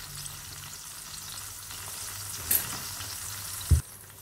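Friarielli (broccoli rabe) sauce for salted cod pasta simmers in a pan, producing a soft continuous frying hiss with two brief clunks near the end and no voices.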